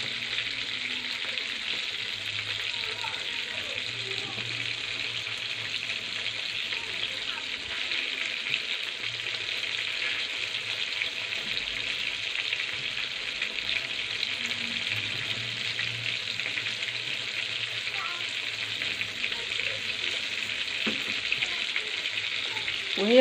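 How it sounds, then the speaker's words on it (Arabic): Dawood basha meatballs fry in a pan, a steady soft sizzle running throughout with faint utensil clinks, close and even in level, no talk over it. "بصوا حبايبي ادي احمرت من الناحيه اللي تحت اهي، قلبناها كده عشان تاخد بردك نفس اللون من الناحيه الثانيه وتبقى متحمره كلها"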